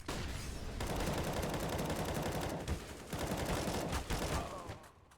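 Sustained bursts of gunfire in a CS:GO match on the Vertigo map, dense overlapping shots in several long volleys with brief gaps, fairly quiet and distant-sounding, then tapering off.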